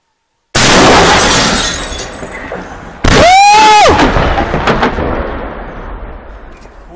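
A single loud gunshot cracks sharply and its echo rolls away, following an earlier loud blast, during an assault on Donetsk International Airport; outdoor noise fills the background.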